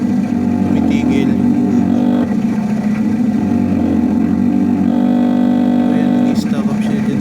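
A faulty wiper motor on a 2000 Mitsubishi Adventure hums in a steady, close drone that holds throughout, with someone talking over it.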